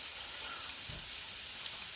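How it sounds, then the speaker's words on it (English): Burgers frying in a pan give off a steady, even sizzle throughout, fairly quiet and close, with a soft thump near the middle and no talking. "That's the sizzle I want in there, like that."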